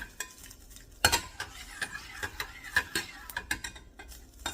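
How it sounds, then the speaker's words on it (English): Food in a pot is stirred with a utensil over low sizzling, giving a series of close scrapes and clinks against the pot at an uneven pace, with one sharper knock near the start. "I'm gonna let that simmer down."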